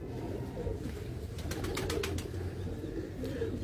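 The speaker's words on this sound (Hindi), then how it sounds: "बड़े शानदार कबूतर" Prized fancy pigeons coo in a loft in Lahore, a soft low steady murmur running throughout, with a few faint brief chirps rising in the middle.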